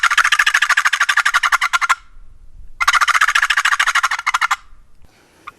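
A hand-operated turkey call imitates a rolling, cackling gobble in two loud, close bursts of rapid pulses separated by a short silence.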